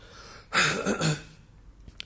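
A man coughs or clears his throat once in a short, rough burst close to the microphone, followed by quiet.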